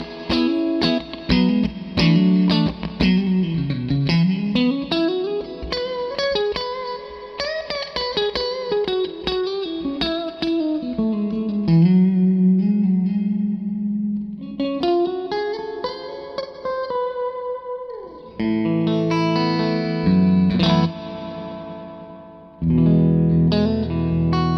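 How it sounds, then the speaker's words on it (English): Plucked electric guitar notes and swooping slides ring out drenched in splashy, twangy digital spring reverb from a TC Electronic Hall of Fame 2 pedal, the reflections trailing after each phrase. "it does sound like a digital representation of a spring reverb"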